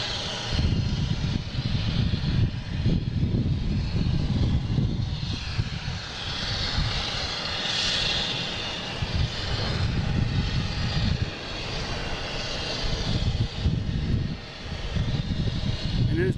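Republic-operated American Airlines Embraer E-175 jet departing Boston Logan International Airport, a loud sustained engine roar with a broad rumbling low end, continuing steadily throughout with only slight dips.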